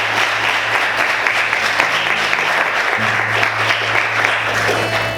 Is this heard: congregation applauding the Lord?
yes